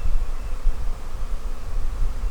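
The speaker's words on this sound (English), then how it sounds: "A bunch of bees bearding on the front of the hive." A large honey bee swarm bearding on the front of a Flow hive, giving a dense, steady close buzz of many wings that never lets up.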